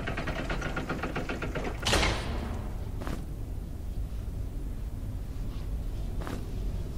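A door opening in the Legend of Grimrock dungeon game, a sharp scraping thud followed by a long rumbling slide and two fainter knocks, set over a steady ambient hum.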